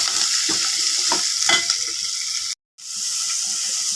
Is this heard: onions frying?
yes